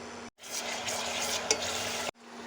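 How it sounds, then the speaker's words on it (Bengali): Onion and garlic frying in white oil, a short burst of loud, close sizzling that starts and stops abruptly, with one faint clink in the middle. "এখানে আমি দিয়ে নিচ্ছি পেঁয়াজ রসুন আর সাদা তেল। এটা এখন তেলের মধ্যে ভালো করে বাইটটা নিব।"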